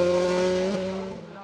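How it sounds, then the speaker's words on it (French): A Formula 3 race car with a Mercedes engine, a Dallara F306, screams past on a hillclimb course at Col Saint Pierre. The high engine note is loud and close and sags slightly in pitch as the car goes by. "Autre F3 à moteur Mercedes, une F306, cette fois-ci celle de Nicolas Ve"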